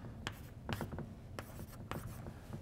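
Chalk or marker strokes on a board while an equation is written in a physics lecture on dielectrics, a series of short scratchy taps and rubs at close range, fairly quiet, with no talking.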